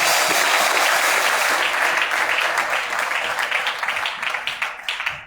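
An audience applauds loudly and steadily, a dense wash of clapping that thins toward the end into separate claps, with a voice faintly under it.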